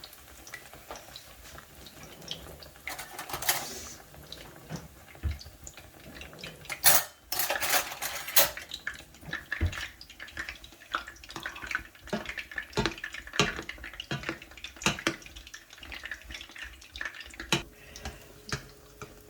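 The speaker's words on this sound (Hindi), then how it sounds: "ऑयल में डालूँगी इसको आराम से।" Aloo besan naan, a potato and gram-flour flatbread, cooking in oil in a pan over slow heat, with soft sizzling broken by sharp clinks and clatters of utensils against the pan.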